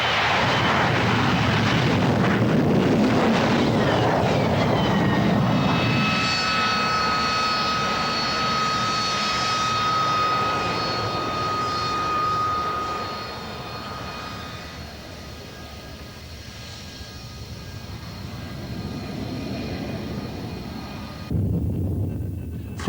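Harrier II jet with a Pegasus vectored-thrust engine hovering, a loud roaring jet blast with a piercing whine, holding steady for many seconds before easing slightly, then swelling again near the end.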